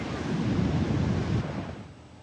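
Powerful coastal ocean waves in a storm with flooding and rip currents, a steady loud rushing surf roar mixed with wind buffeting on the microphone, easing slightly toward the end, no voices.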